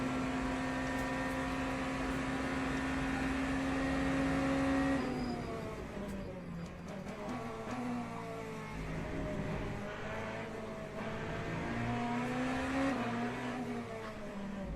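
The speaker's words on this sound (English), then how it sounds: "here comes the Lamborghini" A Lamborghini race car in a racing video game roars past. Its engine tone is loud and steady, then drops and rises again as it accelerates uphill, with no talking.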